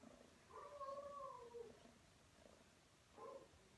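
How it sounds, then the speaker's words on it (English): A black cat purrs quietly up close, with two short chirping, rising vocal notes over a faint, soft background. "She's purring so loudly."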